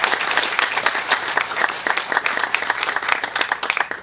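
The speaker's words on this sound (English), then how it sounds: "I'd like to give them a round of applause." An audience at a lacrosse legends ceremony applauds, dense steady clapping from many hands in a room that carries on through the whole stretch.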